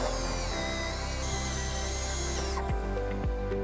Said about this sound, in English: we'll use a 2-inch hole saw to cut that hole